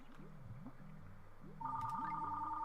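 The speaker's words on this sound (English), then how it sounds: "phone. I know you're ringing." A telephone rings in a room during a Banjo-Kazooie gameplay stream, its repeated ringing starting partway through and sounding faint and steady over quiet game music.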